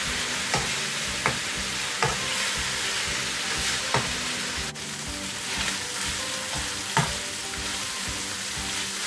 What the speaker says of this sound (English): So my chicken is almost finished frying.